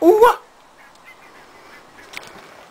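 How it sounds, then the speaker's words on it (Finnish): Loud, close honking waterfowl call burst at the very start, sounding goose-like rather than a duck quack, then a quiet outdoor background of faint ambient noise for the rest. "Sorsat siellä laulaa."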